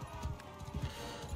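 Horse hooves clip-clopping in the medieval combat game Mount & Blade II: Bannerlord, a quick uneven run of muffled thuds at a trot, fairly soft and close, with no talk over it.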